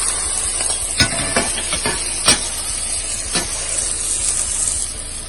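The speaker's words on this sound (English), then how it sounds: "So we're adding our eggs right now." Eggs frying in a pan on a stove, a steady bright sizzle with a few louder crackles and pops, close and continuous.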